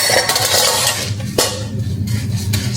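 Hand-washing of dishes in a home kitchen, with continuous running water and a couple of sharp clinks of plates and utensils standing out near the middle and end, close and steady with no talking.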